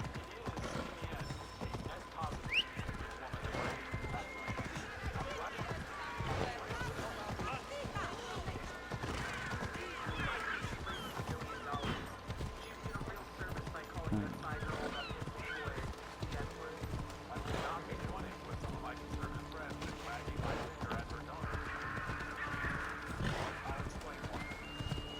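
Horse hooves clip-clop steadily and close throughout, with occasional whinnies, in the video game Assassin's Creed Odyssey, over game sounds and continuous talk.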